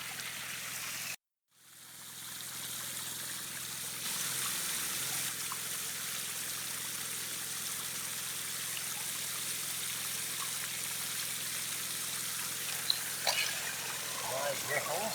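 Water running down a clean river sluice set up like a long tom for gold prospecting, a steady broadband rushing flow that fills the clip after a brief cut near the start, with occasional splashes late on.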